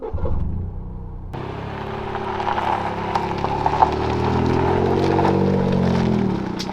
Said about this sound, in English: Driving the GR Yaris.